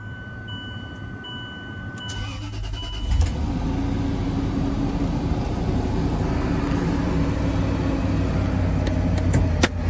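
A supercharged 4.2 Range Rover engine cranks briefly and then fires up, settling into a loud, steady running rumble that continues to the end.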